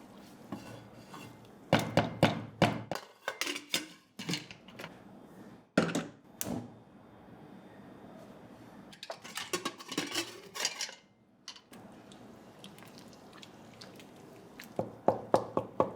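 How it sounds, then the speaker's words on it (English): A wooden madhani churner stirs and pounds saag in a pot, giving irregular clusters of sharp knocks and thuds against the vessel with quiet pauses between bursts, close and alone. "We stir the saag with the madhani, occasionally pounding it"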